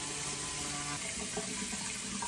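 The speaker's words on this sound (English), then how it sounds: "In the morning, I wash with water." Tap water runs steadily into a sink during a morning face-washing routine, a continuous hiss and splash that stays even throughout with no talking.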